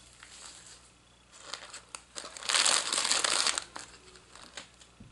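A small bag holding little ribbons is handled up close, crinkling in short bursts that swell into a louder, sustained rustle midway before easing off, with no talk.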